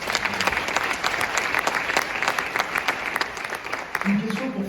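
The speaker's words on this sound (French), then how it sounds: "Waouh, ça s'applaudit très fort." An audience at an entrepreneurs' event bursts into dense, sustained applause, close and loud, with a voice briefly audible near the end.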